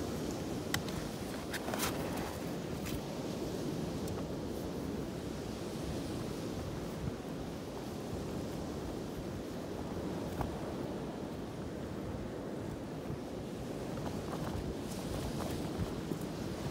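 A gale drives rough sea surf onto a fishing beach, giving a continuous roar of crashing waves and gusting wind with heavy buffeting on the microphone and no talk.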